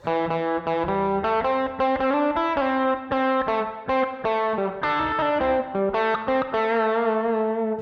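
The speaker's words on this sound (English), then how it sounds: "maybe next time when you play it, you can change up the rhythm of it a little bit" A steady run of distorted electric guitar notes, a pentatonic lick played in a shifting, choppy rhythm, close and loud throughout with no voices.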